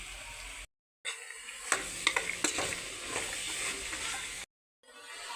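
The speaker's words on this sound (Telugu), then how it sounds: "వేసి అంతా ఒకసారి మిక్స్ చేద్దాం" A spoon stirs a black-eyed pea curry mixture with soaked peas in a pan. It makes close, scraping and clicking sounds over a soft sizzle, with brief silent gaps at the start and end.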